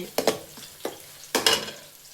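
Ingredients for a fish curry fry in a pan over a medium flame, with a few short, close bursts of sizzling and stirring scrapes, the last one the loudest, over a quiet background.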